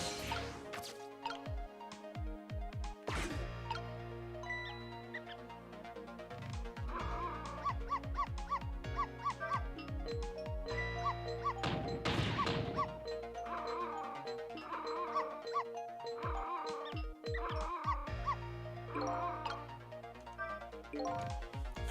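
A small dog in the Ghost Trick: Phantom Detective video game barks and yips repeatedly in sharp, loud bursts, with whimpers between them, over a steady game melody.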